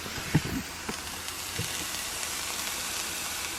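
Beef pasta sauce simmers in a pan with a steady, soft bubbling sizzle, quiet and continuous, with a couple of faint knocks near the start.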